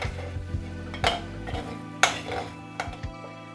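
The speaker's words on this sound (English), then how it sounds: "So I'll just roughly smash it" Cooked black chickpeas being roughly mashed in a pan, a few sharp metal knocks and scrapes of a spoon against the pan over a low steady hum, close and alone.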